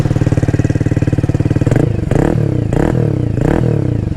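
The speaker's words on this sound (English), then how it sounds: "how about we start up this little HANWAY 125 and hear the little single rumble" A Hanway Scrambler 125 single-cylinder motorcycle engine idles with a steady, loud, close rumble, then gives four short revving throttle blips.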